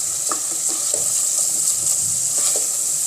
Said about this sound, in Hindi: हम इसको बिल्कुल ही अच्छी तरह से भूनेंगे, बहुत ही अच्छी तरह से